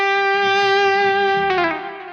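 An electric guitar lead tone through a ToneX amp model with reverb holds one long sustained, effected note that bends into a new pitch partway and then fades into an ambient tail.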